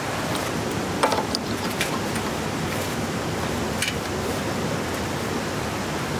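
Steady, rushing water gushes continuously from a hose at close range during highbanking for gold, with a few faint clicks and knocks over the constant gush.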